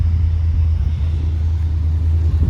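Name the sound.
Holden SSV Redline Ute engine running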